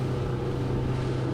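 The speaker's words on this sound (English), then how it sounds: "I can hear that boat engine pretty good." A boat engine drones steadily and loudly on the ride back to the mainland from the Farilhões islands off Peniche, Portugal, a low constant hum with wind rushing over the microphone.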